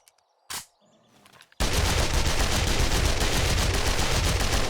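SMG fire in the video game 7 Days To Die, a continuous rapid automatic burst starting after a short pause with a brief click and single pop, loud and sustained to the end.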